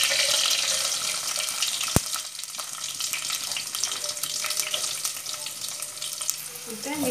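Onions fry in a pan, giving a steady close sizzle with occasional stirring and a sharp knock partway through, with no talk.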